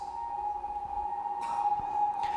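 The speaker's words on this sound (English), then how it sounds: "this is sort of the drop sound, just with some reverb and a filter on it" A synthesized drop sound from The Chainsmokers' 'Closer' rings out as a sustained tone, wrapped in reverb and muffled by a filter, with brief bright swells of noise above it.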